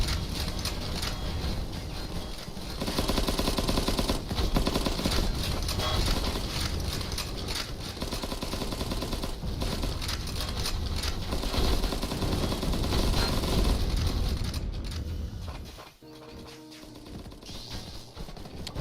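Grenade launcher fire in the Cavalry Girls video game, with dense mechanical bursts and clattering rapid fire running loud and continuous for most of the stretch before briefly dropping away near the end.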